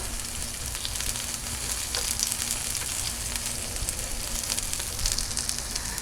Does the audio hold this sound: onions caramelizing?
yes